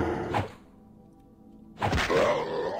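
Two heavy, blunt thunks from an axe striking enemies in the horror game inSanity, one early and one louder hit near the end, separated by a quiet low rumble.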